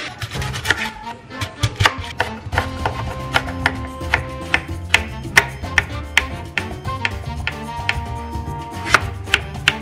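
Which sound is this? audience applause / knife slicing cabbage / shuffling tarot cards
knife slicing cabbage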